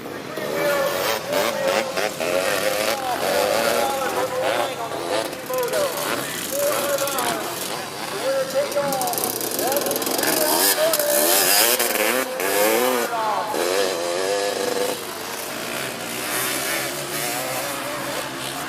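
Three-wheeler ATVs racing in the open class of a county fair motocross event, engines whining and rising in pitch as they pass, continuous and fairly distant, with an announcer speaking over the noise.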